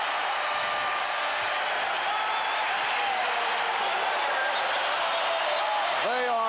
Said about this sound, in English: They are standing and cheering the Bulls, who with a late drive have taken a 30-29 lead on the Lakers.